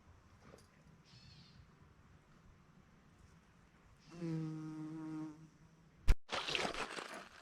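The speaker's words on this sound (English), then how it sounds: "Bees are loving it." Bees buzz around fireweed on a calm evening near an off-grid cabin. One insect drones loudly up close for about a second. Brief fainter buzzes come before it, and a sharp knock and rustle follow.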